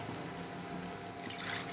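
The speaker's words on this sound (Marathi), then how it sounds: "आता आपल्याला हवं तेवढं आपण गरम पाणी मी याच्यात टाकत" Hot water is poured into a pan of fenugreek curry, a short steady close-up stream of liquid with a soft bubbling hiss.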